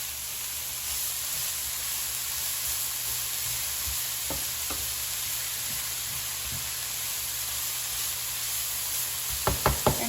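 Cabbage and carrots sizzle steadily in a fully heated pan, a constant close hiss broken by a few soft knocks of stirring and a cluster of sharper clatters near the end, no talking.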